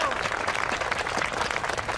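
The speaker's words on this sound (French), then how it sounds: "Je vous propose de vous applaudir." Audience applause at a public ceremony opening a new bank branch, a steady dense wash of clapping from a crowd throughout, loud and continuous without pause.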